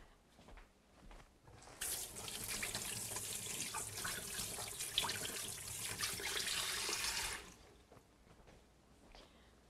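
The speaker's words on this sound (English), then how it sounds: "Let me just wash my hands." Tap water runs steadily into a kitchen sink as hands are washed, a broad rushing splash starting after a quiet moment, holding for about six seconds, then cutting off.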